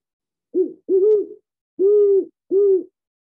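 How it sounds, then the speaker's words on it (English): A recording of a great horned owl plays four deep, clear hoots in an uneven rhythm, loud and close, with short silences between them. "that's the great horned owl"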